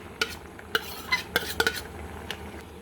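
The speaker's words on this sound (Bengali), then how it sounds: "সবগুলো ভালোভাবে নাড়িয়ে ছাড়িয়ে দিচ্ছি" A spatula stirs chopped green chillies and onions through a pan of pointed gourd, tomato and mola fish curry, giving a run of sharp metallic clinks and scrapes over a soft, low sizzle.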